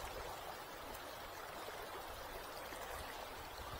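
The Spokane River flowing through the middle of the city, a steady broadband rush of moving water, constant and close, with no talk over it.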